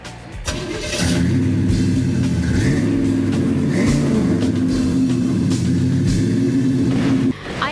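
A 1948 Chevy at a street rod show cranks and fires up, its engine catching and revving loudly in a couple of rising swells, then idling before cutting off near the end.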